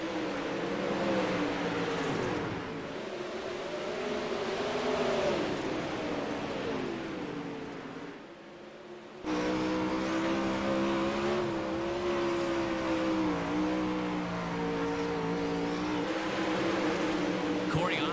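Race cars in the opening heat race of the night in an ESRA Pro Series event, engines droning and rising and falling in pitch as they lap, with a brief lull midway, under continuous commentary.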